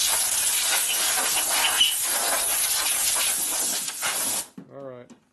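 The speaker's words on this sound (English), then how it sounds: "You use air pressure. compressed air." Compressed air blows off a part of a Harley shovelhead motor during a rebuild, a loud, steady hiss that cuts off abruptly, followed by a brief moment of someone speaking.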